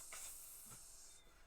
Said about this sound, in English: Did you hear the sizzling burgers?